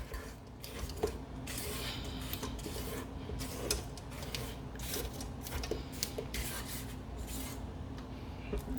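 A spatula scrapes bright red velvet cake batter around a mixing bowl, making a steady, soft, wet rubbing and scraping that continues without a break and stays faint.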